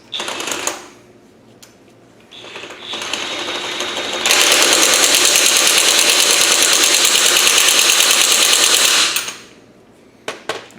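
A DeWalt DCF899 20V MAX high-torque 1/2-inch impact wrench, set to 100 foot-pounds, spins a bolt on through an extension. A short burst and a lighter run lead into several seconds of loud, continuous hammering rattle that then cuts off.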